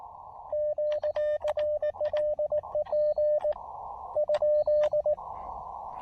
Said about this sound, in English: here's the way it sounds when you operate CW